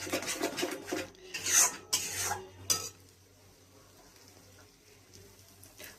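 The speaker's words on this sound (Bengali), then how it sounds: "এটা হলো মেথি পাতা, তো এটা গুঁড়ো করে দিয়ে দিলাম" Dried fenugreek leaves are crushed by hand over a pan of kabuli chickpea ghugni, making close, dry rasping and crumbling bursts for about three seconds, then a faint quiet background.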